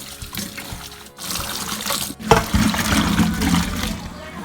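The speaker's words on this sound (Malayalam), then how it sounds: "ഇനി ഇതൊന്നും കൂടി കഴുകി ഊറ്റിയെടുക്കാം." Cut ash gourd pieces washed in water and drained, splashing and pouring water sloshing close by, growing louder toward the end with a steady trickling stream.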